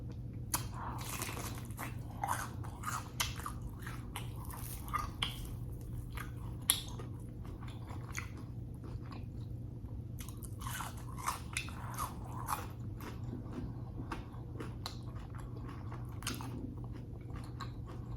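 Close, crisp bites and chewing into a crunchy grilled cheese sandwich made with pepper jack and buttery bread, repeated crunches in irregular bursts over steady soft chewing, with no talking.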